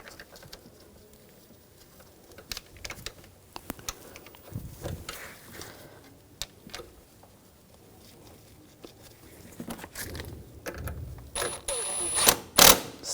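A hand ratchet clicking in rapid bursts as a screw is tightened on the front suspension of a 2004-2009 Audi A4 Quattro during a shock replacement, close with brief pauses and some metallic clatter.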